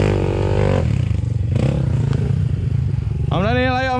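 Motorcycle engine revving hard on a steep slope beside a ravine, the throttle rising and falling in strong harmonic sweeps close by, with people talking and calling out over it.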